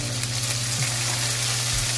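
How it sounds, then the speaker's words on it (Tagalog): Pork steak marinade poured into a hot pan hisses loudly, a dense continuous sizzle close up with a faint stirring scrape, no talking. "Ilagay na natin yung ating pinagmarinitan kanina."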